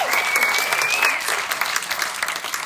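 A full crowd applauds steadily at a community awards ceremony, dense clapping held at an even level throughout with a brief tonal squeal near the start.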